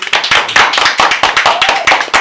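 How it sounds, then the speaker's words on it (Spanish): Enthusiastic applause from an audience on a Spanish-language radio show, loud and close, with dense overlapping claps rippling steadily throughout. "pedimos un aplauso por su presencia aquí"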